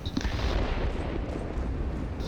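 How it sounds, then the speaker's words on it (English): Aircraft cannons fire continuously in World of Warplanes from a La-15 tier X jet fighter, a dense rumbling barrage of heavy bursts that holds steady for the whole stretch. "323mm cannons aren't the most accurate guns in the world"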